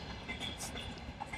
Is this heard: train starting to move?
yes